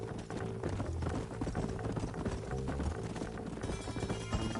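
Horses trotting with clip-clopping hooves in the video game Red Dead Redemption, a steady rhythmic beat set against a dense game score that fills the background throughout.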